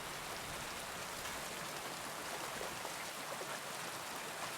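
Steady rain falls in Kingdom Come: Deliverance 2, a soft, even hiss of drops on the ground that continues unbroken throughout, with no voices over it.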